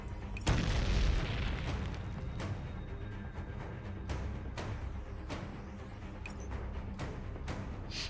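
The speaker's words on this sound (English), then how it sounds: "A massive explosion sends us flying," A massive explosion in the video game Girls' Frontline: Neural Cloud opens with a heavy booming blast, followed by a sustained rumble and scattered sharp cracks, loud and close.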